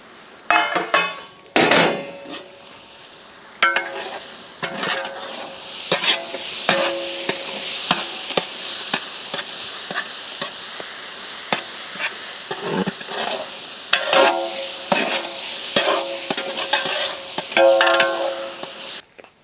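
Onions and tomatoes frying in oil for chicken bhuna masala, with roasted masala powder and Kashmiri red chilli powder added, give a steady close sizzle broken by repeated scraping, clattering stir strokes against the pan.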